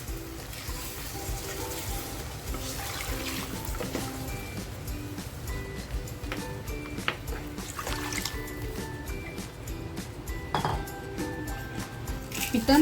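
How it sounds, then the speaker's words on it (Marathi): Water poured into simmering pomfret fish gravy in a cooking pan, a steady continuous trickle with faint clinks of the pan, close and fairly loud throughout. "आता आपल्याला जितकं पाणी पाहिजे ना तितकं पाणी टाकून घ्यायचं आहे"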